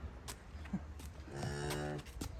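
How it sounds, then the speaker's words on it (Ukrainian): A cow on a village farmyard lets out a drawn-out moo that rises in the second half, heard nearby over faint yard noises and a few soft knocks. "вже мукалка мукає, як завжди"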